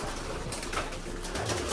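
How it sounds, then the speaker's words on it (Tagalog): Racing pigeons coo in a loft. Their soft, repeated low calls sound close and carry on steadily over the short stretch, with no talking. "Marami kasing kalapati dito sa kabila, mga kalapatids eh."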